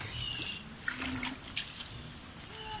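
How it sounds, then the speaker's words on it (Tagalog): Strong floodwater from a New Year's Eve flood rushes and trickles steadily, a continuous wash of flowing water with occasional splashes, heard close and alone. "Tingnan naman po kung gaano kalakas ang tubig."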